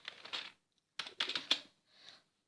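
Sharp clattering keystrokes on an old computer keyboard in a few quick bursts, close up, with brief pauses between clusters and no speech.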